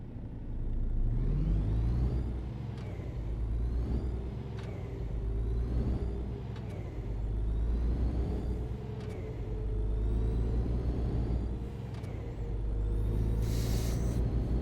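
A truck engine in the On the Road driving game rumbles steadily up close, swelling and easing in long waves with periodic soft clunks as it drives, no talk.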